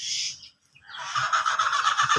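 A flock of 65-day-old Fayoumi chickens grazing on grass at a farm in Taraganj, Rangpur, gives off a busy chorus of clucking and calling, breaking off briefly before resuming louder and continuous.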